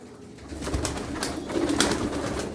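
Nuhudi pigeons cooing in a loft in Darıca, soft, low, repeated coos close by over a murmuring background, with faint wing flutters and other bird sounds mixed in.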